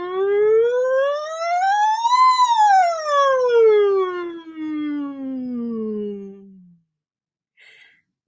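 A single voice glides upward then slowly down on a sustained NG hum, imitating a siren during a vocal warm-up exercise, loud and close for about seven seconds before falling silent.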